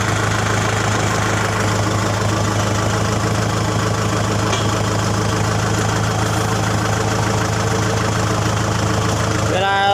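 A Kubota M6040 tractor engine chugs steadily in first gear while slowing without stopping, a loud continuous diesel drone with even knocking, heard close up throughout.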